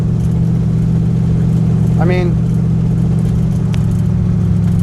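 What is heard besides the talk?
street rod car engine revving while driving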